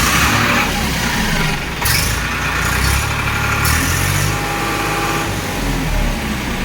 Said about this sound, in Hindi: धीरे से पुश किए तुरंत गाड़ी स्टार्ट हो जाती है। क्या खूबसूरत आवाज़ है ट्रैक्टर की